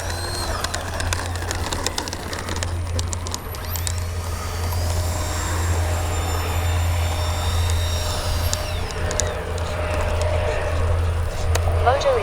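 An XFLY F-35 RC model jet flies through a steady, continuous turbine-like whoosh with a low droning hum throughout, along with intermittent mechanical rattling and faint bird chirps in the background.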